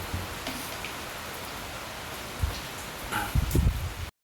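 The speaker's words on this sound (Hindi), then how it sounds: "आज बहुत ज़्यादा तेज़ी से बारिश हो रही है।" Heavy rain pours down outdoors in a dense, steady hiss of falling drops, with a few dull knocks and thumps close by near the end before it cuts off.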